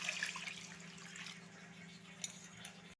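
Water pours steadily into a metal pressure cooker, a continuous splashing flow that stops abruptly at the end.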